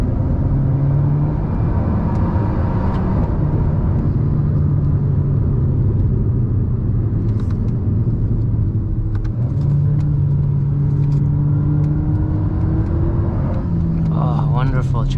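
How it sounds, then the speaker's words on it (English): Alpine A110 turbo engine heard from inside the car, a steady loud drone with rising boost whir and a blow-off valve release near the end, with talk over it. "Has the same boosty feeling and this blow-off valve sound."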